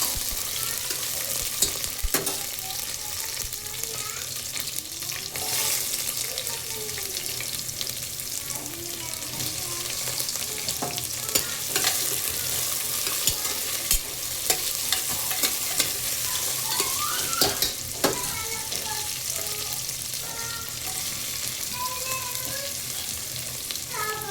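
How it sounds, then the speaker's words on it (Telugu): Chopped ivy gourd stirred in a hot pan after a tempering, giving a steady sizzle with repeated spoon scrapes and knocks against the pan, close and fairly loud for the whole stretch. "ఇప్పుడు దీంట్లోకి తరిగి పెట్టుకున్న దొండకాయలు అడుగంటకుండా తిప్పుకుంటున్నాను"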